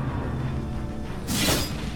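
A firecracker attack bursts in a turn-based video game, a bright crackling blast arriving abruptly partway through over a low steady game backdrop.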